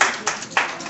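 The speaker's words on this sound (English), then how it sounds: "Y'all want to clap it up?" An audience gives a brief burst of scattered clapping during a sermon-style talk to parents and families, with two louder spikes of hand claps over a steady room hiss in under a second.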